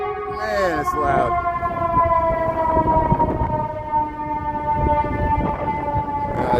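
Emergency vehicle siren on a Chicago street, a loud close wailing tone with steady harmonic bands holding for several seconds over traffic noise, with someone talking over it.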